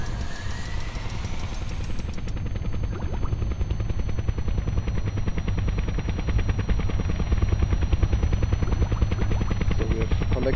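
A helicopter's rotor at full thrust in Kerbal Space Program, a continuous rapid thudding chop with a steady engine whine, loud and unbroken throughout.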